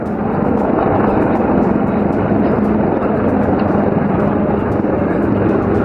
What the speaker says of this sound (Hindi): रुद्र हेलीकॉप्टर के प्रलयकारी प्रहार ने शिव तांडव रचते हुए दुश्मन के टैंक और हेवी व्हीकल कॉलम को पूरी तरह नेस्तो नाबूद कर दिया है